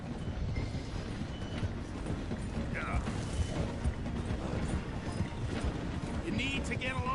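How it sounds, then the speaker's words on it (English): A steam train in Red Dead Redemption 2 slowing as it passes through a station, with a steady mechanical rumble and clatter running throughout and voices talking over it. "The train is slowing down to go through the station."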